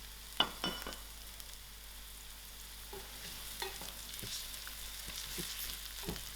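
Whole cinnamon, cardamom and lamb pieces hit hot oil for tomato rice, giving a low, steady frying hiss with a few sharp pops and clatters of spices landing, fairly quiet and without talk.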